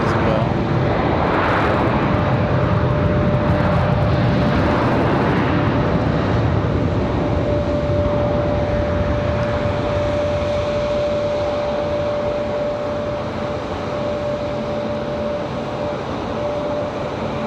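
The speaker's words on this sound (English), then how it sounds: "Looks like another Delta departure coming up as well." A Delta airliner departing Raleigh-Durham airport, a loud sustained jet roar with a steady tonal whine running through it, swelling early and then slowly fading as it continues.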